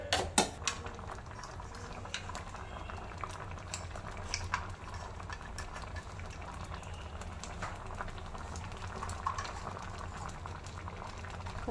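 Mango and jaggery with ghee bubble and simmer in a pan, a soft, continuous close-up gurgle, with a few sharp utensil clinks against the pan early on and occasional light scrapes.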